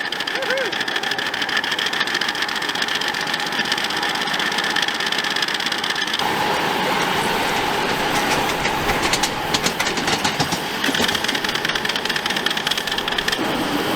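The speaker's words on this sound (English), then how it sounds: "This little loco pulled us around the elevated track at great speed" A small miniature-railway locomotive drones and rattles continuously on an elevated track, with rhythmic clicking of wheels and occasional voices talking over the noise.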